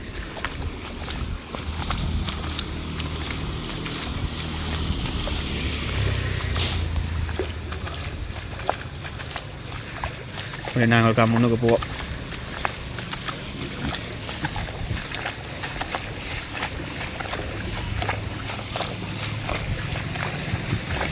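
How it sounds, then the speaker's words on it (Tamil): Wind blows with rain during a flood, roaring steadily and close against the microphone throughout. A voice speaks briefly midway. "காற்று கொஞ்சம் அடிக்குது மழையும் பெறதால்"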